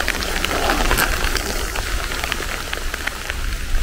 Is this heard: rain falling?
yes